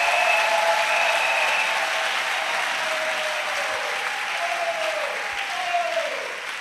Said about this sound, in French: Let's clap to Jesus Christ.